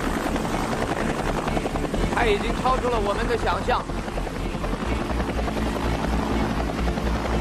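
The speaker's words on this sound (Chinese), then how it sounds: "他把直升机移到了下一个啤酒瓶的地方。" A helicopter hovers at ultra-low altitude during a precision challenge to open beer bottles, its loud, steady rotor and engine drone filling the whole stretch while an excited voice talks over it.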